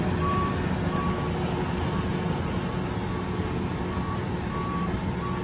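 Reversing beeps from a semi truck backing a chip trailer onto a tipper at a mill, a steady evenly spaced series of tones over a constant engine rumble and broad background noise.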